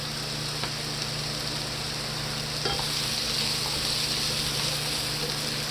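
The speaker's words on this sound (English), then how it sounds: "let these roast in the pan, you know, for about, I'm on medium high" Potatoes and carrots roasting in a pan on medium-high heat, a steady close sizzle and frying hiss running continuously with a faint stirring scrape partway through, no voices.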